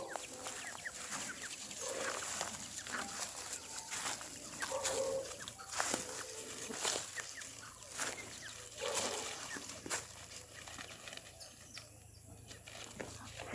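Chickens and young chicks clucking and cheeping on a poultry farm, a steady busy mix of short calls over constant low barn hum, moderately near and fairly soft.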